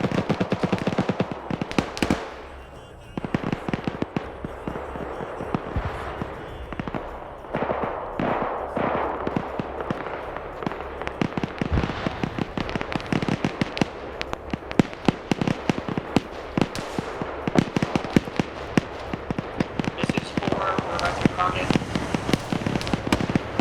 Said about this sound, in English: Oh, AT, Maz just blew it up. This is 4, we got a hit on the BTR